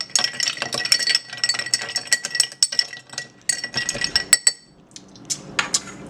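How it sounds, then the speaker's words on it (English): A metal utensil clinks and scrapes rapidly against a bowl while ingredients with lemon concentrate are mixed, close and bright, with a busy irregular rhythm that thins out near the end. "I'm going to go ahead and mix these up."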